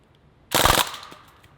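A BB gun fires a rapid short burst at a stiff, air-filled plastic bottle, a sharp crackling report lasting a fraction of a second before a fading tail, close and alone in otherwise near silence.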